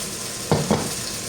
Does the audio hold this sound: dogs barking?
no